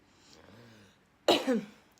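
A faint hum of voice gives way to a sudden, close throaty cough with a short rasping second push.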